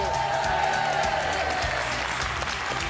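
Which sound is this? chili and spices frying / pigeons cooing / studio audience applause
studio audience applause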